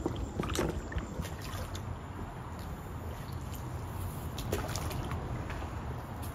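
A paddleboard without a fin is paddled along the Loxahatchee River, with rhythmic close paddle strokes dipping and splashing through the water over a soft wash of current and light wind.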